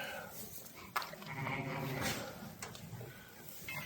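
Ewes bleating in a barn, several overlapping calls in quick succession against soft background shuffling, close and moderately loud.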